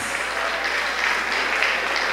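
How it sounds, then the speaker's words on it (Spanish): A show audience applauding steadily, dense clapping that holds at an even level throughout. "Un fuerte aplauso para él."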